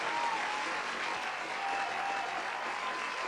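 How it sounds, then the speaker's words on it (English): Steady applause from a crowd, dense and continuous clapping at moderate volume with no voices rising above it. "Let me just give you a round of applause."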